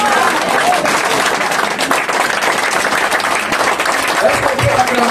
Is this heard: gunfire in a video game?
no